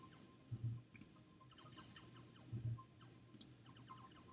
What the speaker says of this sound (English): It starts firing.